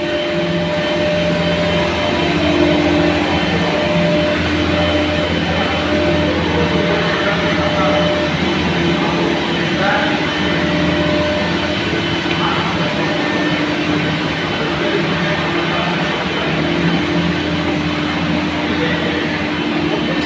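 Large engine of a carnival ride with six-person cabins running steadily, a loud continuous drone and hum with faint distant voices underneath throughout.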